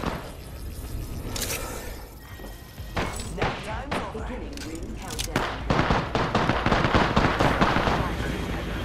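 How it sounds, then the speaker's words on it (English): Dense, loud bursts of gunfire and explosive cracks in the game Apex Legends, rapid and overlapping, with a voice talking over the barrage. "That's a lot of gunfire."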